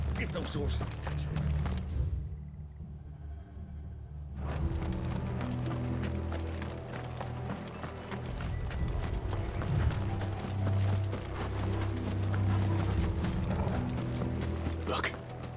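Steady horse hooves clip-clop throughout in Final Fantasy 16, mixed with mechanical clatter and game sound effects, with a brief quieter gap early on.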